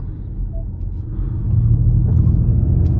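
A Ford electric sports car of over 300 hp accelerates hard, a low rumbling drone that swells and grows louder midway, heard from inside the cabin without talk.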